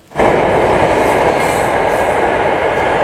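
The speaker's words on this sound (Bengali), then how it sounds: "এই যে ট্রেনটা গেল কত স্পিড দেখতে পাচ্ছেন তো" A train rushes past at speed close by on a railway line near a station platform, a loud continuous roar that starts abruptly and holds steady without talk.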